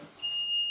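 A fire alarm sounder goes off in another room, a faint steady high beep-like tone starting after a brief pause and continuing to the end.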